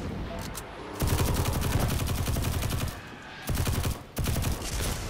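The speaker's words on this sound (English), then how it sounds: "I'm shooting at you!" Rapid automatic gunfire from a player's weapon in Destiny 2, loud and close, in sustained bursts with short breaks between them.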